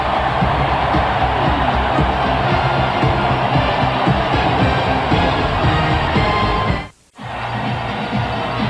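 A record crowd at Lambeau Field roars during a 1996 Green Bay Packers home game against the San Francisco 49ers. The loud, dense wash of cheering holds steady, drops away for an instant near seven seconds, then swells back.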